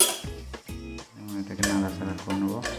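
Panch phoron and dried red chillies fry in hot mustard oil while a utensil stirs and scrapes the pan, with clinks of metal over a soft sizzle, under steady talk throughout.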